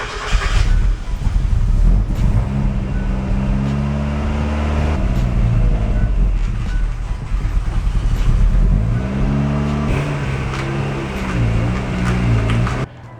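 A Mazda Miata engine cranks and catches, then revs up and down in several rising and falling sweeps before settling to idle, loud and close throughout.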